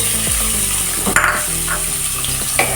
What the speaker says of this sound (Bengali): এবার আমি এর মধ্যে দিয়ে দেব একটা গোটা ক্যাপসিকামকে আমি ছোটো করে কুচি করে নিয়েছি ক্যাপসিকাম কুচিটা আমি দিয়ে দেব